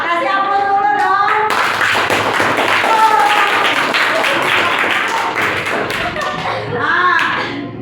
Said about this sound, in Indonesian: Ya, kasih aplaus dulu dong.